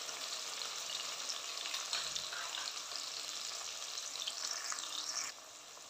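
Masala and cauliflower fry in a pan for dhaba-style gobhi sabzi, giving a continuous, fairly loud hissing sizzle that holds steady and drops slightly near the end.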